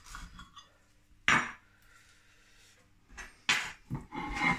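A knife cuts into a crispy pork and cheddar sausage roll, giving a few sharp crunching and scraping bursts separated by quiet gaps, close and fairly faint, with no talking.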